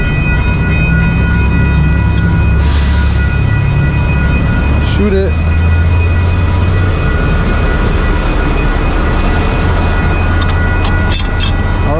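A train roars past at close range in a steady, loud rumble of wheels and rail noise, with faint clicks and a brief word spoken.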